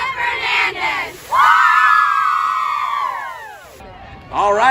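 A high school football game cheer squad, the Eagles, cheers loudly with high-pitched screaming and shouting voices that rise and hold for a couple of seconds and then fade, alone with no talk.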